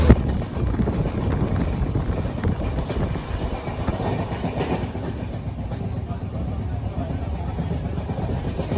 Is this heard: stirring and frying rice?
no